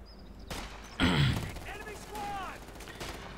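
Gunfire from a Company of Heroes 2 match, with Pathfinders under attack by Fallschirmjäger: scattered bursts and rattling shots in a busy game battle soundscape, mixed with other effects and a commentator talking over it.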